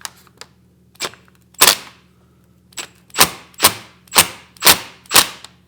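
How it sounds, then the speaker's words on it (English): An impact wrench works a nut off a Hobart A200 mixer in sharp, loud bursts: a few isolated hits, then a rapid regular series of about six close impacts with short silences between. "I'll try and spin it off with the impact"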